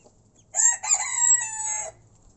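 Rooster crowing once, loud and close for about a second and a half, its harmonic call rising and holding then cutting off, with faint low farmyard murmur from hens beneath.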